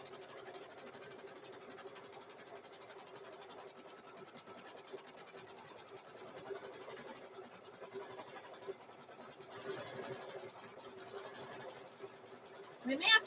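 A sewing machine stitches hoodie fabric in a long, even, rapid chatter, faint and somewhat distant, with a few soft bumps of handling near the end.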